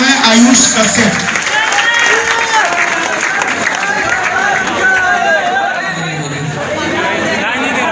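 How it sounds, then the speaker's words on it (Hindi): A poetry gathering marking a coaching institute's anniversary, with the audience giving a loud, full burst of applause to welcome a poet. Clapping and crowd chatter mix together, and a voice can be heard over the applause. "आप लोग इनको जोरदार तालियों से स्वागत करिए"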